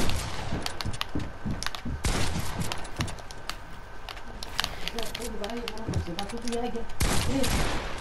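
Loud pump shotgun blasts and other gunfire crackle through a Fortnite solo match in dense bursts, close and continuous, while a voice briefly talks over the shooting.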